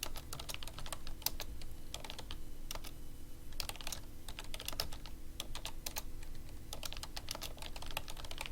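Rapid keystrokes on a computer keyboard, quiet and close, tapping in uneven runs with short pauses between bursts.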